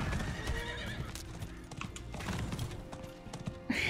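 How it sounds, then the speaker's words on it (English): Hooves of a galloping horse clatter quickly while the horse lets out a neigh, all from the video game Diablo IV, in a short burst with game sounds layered around it. "Pretty horsey go fast!"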